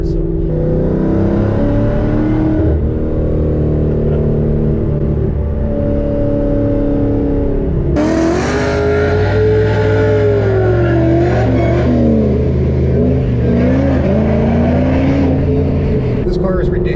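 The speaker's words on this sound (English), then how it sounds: "This car is ridiculously loud." A loud, droning SVT Cobra Terminator V8 with long-tube headers idles and revs, with a deep rumble that swells sharply partway through and stays heavy; a voice talks over it at times.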